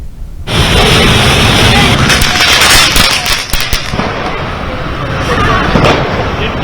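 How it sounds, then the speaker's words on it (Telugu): Diwali firecrackers burst in rapid, loud crackling volleys during evening festival celebrations, with sharp pops crowding together over a dense background of fizzing and explosions. "సాయంత్రం సరదాగా క్రాకర్స్ కాలుస్తూ సందడిగా గడుపుతున్నారు"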